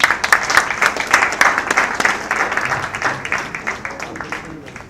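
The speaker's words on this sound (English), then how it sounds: "Big round of applause, please." An audience at a world vegetarian festival in Chennai applauds steadily after a speech, dense overlapping clapping filling the whole stretch at a fairly loud, even level.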